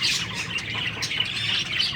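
Parrots squawking and chirping in a dense, continuous chorus, close and loud, female birds busy pairing up after rain.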